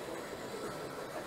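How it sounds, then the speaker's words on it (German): A model ICE 4 train runs on a display layout at the Nuremberg toy fair, producing a soft, steady rolling hum with a faint rhythmic clatter throughout. "So, hier haben wir jetzt unsere Technikanlage, wo der ICE4 fährt."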